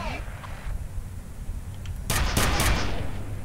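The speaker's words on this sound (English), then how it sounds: "That was a grenade to my freaking face." A grenade explodes in the F.E.A.R. first-person shooter. A loud, broadband blast and its crackling aftermath erupt about two seconds in over low, rumbling game ambience.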